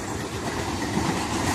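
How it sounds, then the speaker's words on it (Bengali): A Sealdah local train rumbles steadily nearby, a broad continuous roar with a faint rhythmic clatter of wheels. "এই দেখো ট্রেন চলে আসছে আবার"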